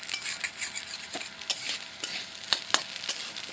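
Gobindobhog rice being stirred as it fries in a pan, with a steady sizzle broken by repeated scraping clicks of a utensil against the metal, close and fairly loud with no talking.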